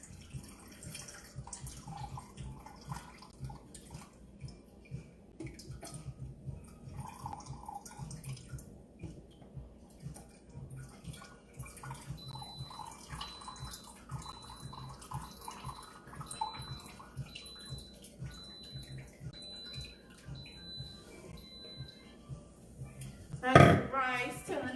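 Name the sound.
draining water from a pot of rice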